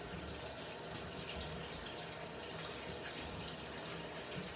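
A Haier mini automatic portable washer fills with water, a steady faint hiss and gush of running water that stays constant throughout.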